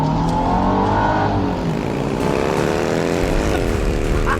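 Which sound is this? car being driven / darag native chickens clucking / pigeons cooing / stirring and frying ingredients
car being driven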